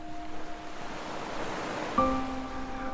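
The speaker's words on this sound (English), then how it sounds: "the first thing that hits me is the sound of the sea" Sea waves wash against the Solent shore in a soft, steady surf wash, faint and distant, with a brief tonal whine cutting in near the end.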